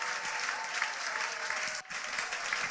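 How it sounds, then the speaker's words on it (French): A church congregation at a Sunday service claps steadily in a dense, continuous round of applause with crowd noise, briefly dipping for a moment before carrying on. "Nous allons le célébrer avec nos acclamations."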